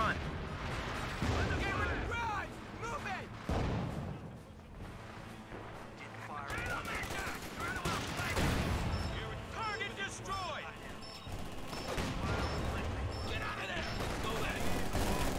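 Battlefield gunfire and artillery from Company of Heroes 2 in an online 2v2 match, heavy booms and crackling shots under constant game voice lines and radio chatter, loud and continuous throughout.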